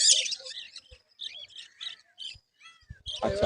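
Several adult cockatiels in a bird shop chirp in bright, repeated calls, some near and loud, with short pauses between bursts and a flurry of calls at the end.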